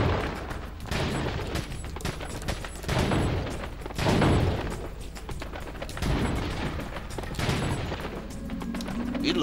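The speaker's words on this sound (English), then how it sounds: "We haven't used a TMP before, have we? It's just a simple target practice game thing." A TMP submachine gun fires repeated rapid bursts at a target practice range in Resident Evil 4, loud and close with short gaps between bursts, with mechanical game sounds near the end.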